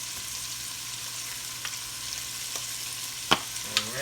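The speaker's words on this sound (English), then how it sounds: "We're gonna saute all this off, y'all." Celery, onions and garlic sautéing in a pot for chicken noodle soup, a steady soft sizzle with a few sharp clinks of a stirring utensil near the end.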